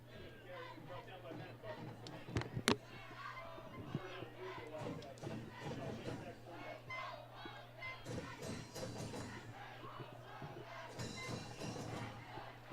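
A high school football crowd murmurs and cheers in the stands, a busy babble of many voices with bursts of louder shouting and a few sharp peaks, and a steady hum underneath.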